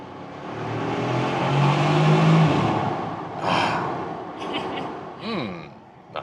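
Bentley Continental GT Speed engine revs and winds down under a downshift, loud and close at first, then easing off with a couple of short blips near the end.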